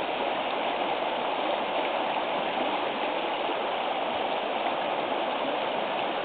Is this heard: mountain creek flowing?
yes